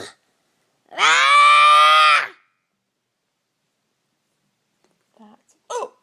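A person imitating a hiccup with one loud, drawn-out, strained vocal burst lasting about a second. It is followed by silence and then a couple of faint short voice sounds.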